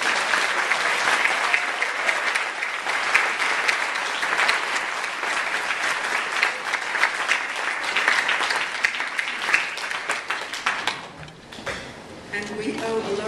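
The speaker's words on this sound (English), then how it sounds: "These women deserve your applause." Sustained audience applause at a closing address for a women's archive organization, dense steady clapping for about eleven seconds before thinning out, with a few scattered claps and a voice near the end.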